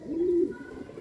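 A single pigeon being readied for the pigeon-flying season coos once, close and clear, a short throaty call that fades quickly.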